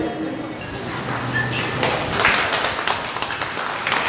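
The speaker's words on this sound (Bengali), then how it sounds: "প্রত্যেকে জয় করতালি দেবেন।" An audience clapping at a political rally, a dense continuous patter of applause at moderate loudness with some voices mixed in, steady from start to finish.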